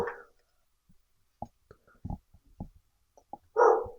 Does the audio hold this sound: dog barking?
yes